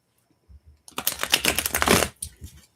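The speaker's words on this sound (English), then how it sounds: "let me shuffle real good" Tarot cards are shuffled close up during a live reading, giving a dense papery riffle of about a second with a few softer shuffles around it.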